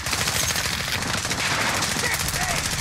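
Sustained rapid gunfire from a multiplayer shooter video game, dense overlapping shots firing continuously and loudly throughout the short stretch.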